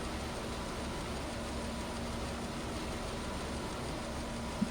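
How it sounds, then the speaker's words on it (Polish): A tractor in the video game Farming Simulator 15 makes a constant, low, droning engine hum with a soft background hiss and one brief click at the end, with no talk. "No ja jadę ciągnikiem na farmę na razie"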